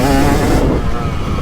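A 2023 KTM 300XC two-stroke dirt bike engine grunts at low rpm through ruts, a loud, close, continuous throaty drone with no talking.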